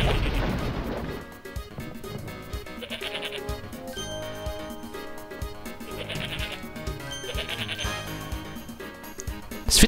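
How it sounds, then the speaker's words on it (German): A goat bleats in the PS1 video game Disney's Hercules, with loud, wavering cries repeating a few times over busy game music, bursts and crashes. "Da kam gerade eine Ziege vom Himmel geflogen."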